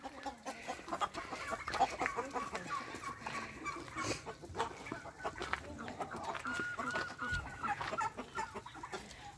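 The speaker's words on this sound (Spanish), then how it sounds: "Ay, mira, le está agarrando su gallinita." Hens cluck and chatter in a chicken coop, several birds calling close by in overlapping bursts, with some faint voices in the background.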